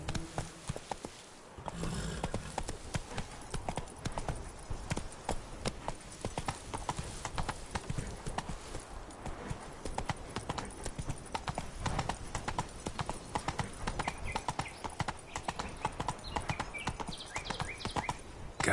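Roach, the horse in The Witcher 3: Blood and Wine, gallops with a rapid, steady clip-clop of hooves for the whole stretch, close and loud over faint game ambience.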